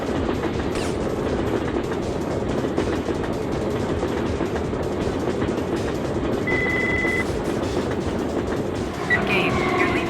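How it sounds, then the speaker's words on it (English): A train rumbles past in the game Syphon Filter, a continuous loud roar of rail noise filling the whole stretch, with brief tonal beeps and signals near the end. "All you had to do was follow the damn train, CJ."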